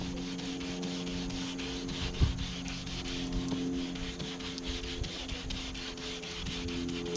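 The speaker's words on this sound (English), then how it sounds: "Wet sanding is the easiest thing you can do." Steady, quiet rubbing of wet sanding on painted car fender, a continuous soft scuffing texture with one brief bump, no voices.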